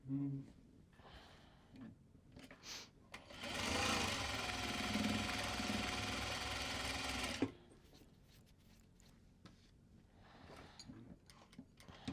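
Sewing machine running steadily for about four seconds while stitching double seams on Japanese fabric, a close, even mechanical whir framed by quieter handling noises and light breaths before and after.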